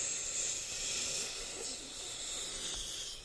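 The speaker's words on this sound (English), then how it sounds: "The noise you are hearing is someone just sucking in air" A person sharply and steadily sucking in air through the mouth, a close, continuous breathy hiss lasting a few seconds with no talking.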